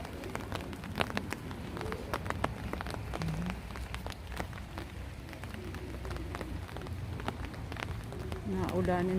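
Rain falling outdoors at a market in Tochigi, Japan, a dense patter of drops hitting surfaces close by, steady throughout with faint voices beneath.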